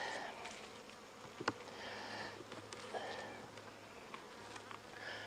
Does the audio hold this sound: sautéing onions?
no